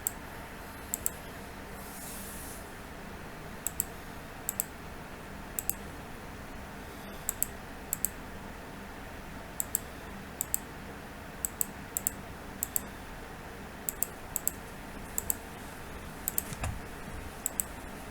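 Computer mouse clicks and keyboard keystrokes while working in Revit, heard as sparse, sharp, isolated clicks spread over a steady low background hum, sometimes single and sometimes in quick pairs.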